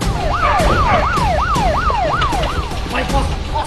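Police car siren wailing loudly in a fast, regular rising-and-falling cycle, close by with traffic noise around it.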